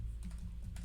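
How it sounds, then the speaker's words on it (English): Typing on a computer keyboard during in-app software work, a quick faint run of soft key clicks close to the microphone, with no talking. "forgive my typing."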